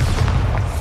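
Bombarda spell explosion from Hogwarts Legacy, a video game: a heavy, loud, low boom that rumbles steadily throughout this short moment.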